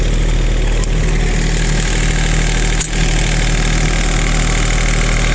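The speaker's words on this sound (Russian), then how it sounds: "Естественно, двигатель дизельный, трехцилиндровый." A three-cylinder diesel engine on a Japanese mini excavator with steel tracks and a 0.04 cubic metre bucket idles steadily and loudly up close, a smooth continuous drone with one brief dip midway.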